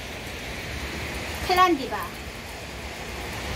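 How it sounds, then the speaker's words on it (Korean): Rain falls outside a house as a steady, soft broadband hiss, with a voice speaking a single word partway through. "밖에는 비가 오고 있습니다."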